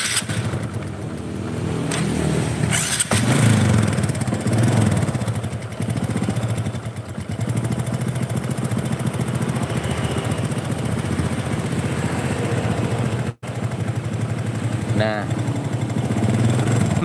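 A Honda Supra 125 motorcycle engine idles steadily up close, running hot and prone to stalling, with a continuous low rumble that dips briefly once near the end; someone talks over it at times.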